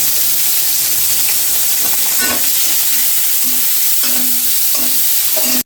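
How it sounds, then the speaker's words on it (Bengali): Cumin seeds, dry chillies and a bay leaf fry in hot oil with a loud, constant hiss and crackle, and a spoon scrapes the pan now and then. "তেলের মধ্যে জিরা শুকনো মরিচ একটা তেজপাতা দিয়ে দিছি"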